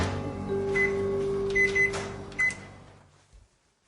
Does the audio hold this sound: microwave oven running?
yes